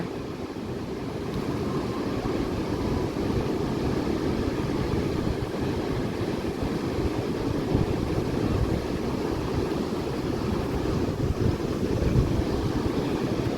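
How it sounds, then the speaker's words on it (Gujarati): Strong wind rumbles and buffets the microphone while sea waves surge and wash steadily against the shore, a loud, continuous roar with no voices. "પવન પણ જોરદાર છે અને દરિયામાં મોજા છે બહુ જોરદાર"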